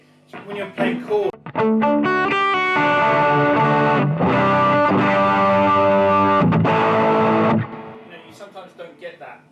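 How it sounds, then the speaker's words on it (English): Electric guitar chords ring through a Dumble-style amp pushed into overdrive, thick and sustained, with a few picked notes leading into long saturated strums before fading out. "another great thing about the overdrive on a Dumble style circuit is that you can play more than one note and you get this effect"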